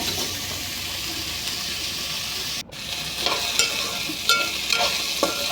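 Brinjal pieces, soaked in salt water, frying and being stirred in a pan for a Telugu eggplant and meal maker curry: a steady close sizzle with a brief break midway, then scraping stir noises over continued frying.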